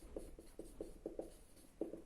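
A pen or pencil scratches on paper in short, rhythmic strokes, quiet and close, as figures are written out during a maths lesson.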